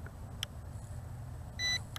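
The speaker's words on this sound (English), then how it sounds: "rotate it horizontally until a beep is heard" An X2 Pro3 GPS drone gives short electronic compass-calibration beeps, a brief chirp early on and a longer tonal beep near the end, faint over low background hum.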